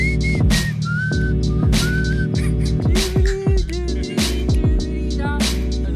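A person whistles a series of short tonal phrases over steady engine-like background rumble and clatter.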